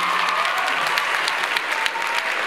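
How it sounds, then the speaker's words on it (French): An audience at a high school graduation ceremony claps in a dense, steady burst of applause that fills the hall at an even level throughout. "On peut les applaudir."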